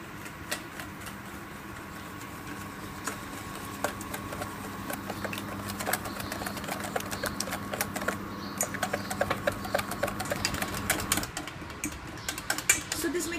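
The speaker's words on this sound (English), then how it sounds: "we're going to take a whisk and whisk it constantly till it's done" Egg whites and sugar are whisked constantly in a bowl over a double boiler, giving rapid, steady close-up clicking and tapping over a low hum that grows busier toward the end.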